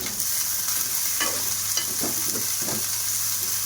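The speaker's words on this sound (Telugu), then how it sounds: "అన్నీ వేసుకొని ఫ్రై చేసుకోండి." Cabbage and other vegetables sizzle in a hot pan for homemade egg and chicken fried rice, a steady frying hiss broken by a few scraping stirs of the spoon, close and alone without talk.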